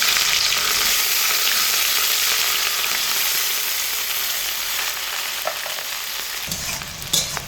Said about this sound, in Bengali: এই একই তেলে বিনসগুলোকে দিয়েও খুব ভালো করে ভেজে নেব।